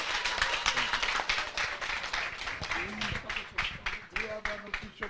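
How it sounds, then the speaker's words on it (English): An audience at a Rotary club meeting applauds to welcome a new member, a brisk patter of many hands clapping under a speaking voice that continues throughout. "Can we receive her with a big round of applause?"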